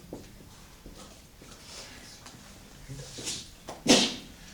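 A single sharp sneeze bursts out near the end, following a stretch of quiet room noise and faint rustling.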